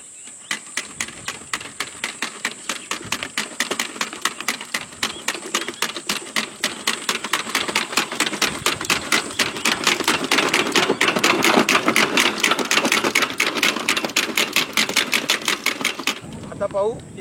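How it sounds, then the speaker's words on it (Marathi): An Agri Power seed planter's mechanism runs while dropping cotton seeds, giving a rapid, regular train of sharp mechanical clicks and clacks. The sound is loud and close, steady for about sixteen seconds, then stops abruptly. "आता आपण मशीन चालून पाहू कशा पद्धतीने बियाणं पडते."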